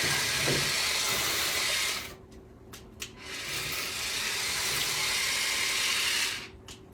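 Running water hisses from a kitchen tap as a utensil is washed in hot soapy water, a loud steady rush that cuts off briefly twice before resuming.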